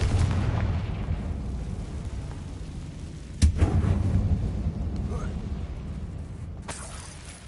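In Hogwarts Legacy, the Confringo fire spell goes off inside a closed mine shaped like a tomb: a sudden booming blast with a short rumbling tail, then another softer burst a few seconds later.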